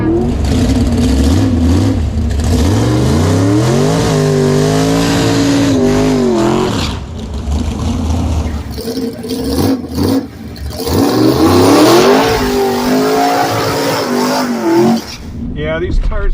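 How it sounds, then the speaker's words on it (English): A Tesla Model S Plaid launches hard at a drag strip in drag mode, its tires spinning rather than hooking. A loud electric motor whine rises steadily, then breaks up into roaring noise, with voices mixed in near the end. "these tires want to spin, not hook"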